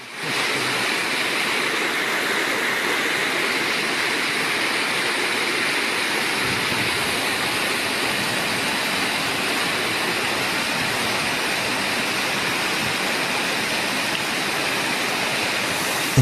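Floodwater rushing through streets during the Valencia flash floods after torrential downpours, heard as a loud, unbroken roar of churning water that holds steady throughout with no voices.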